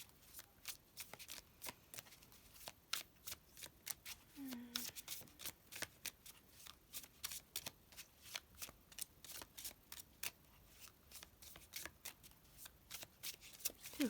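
Tarot cards are shuffled by hand, a long run of quick, crisp riffling bursts in a steady rhythm, close and fairly soft, with a faint voice briefly underneath.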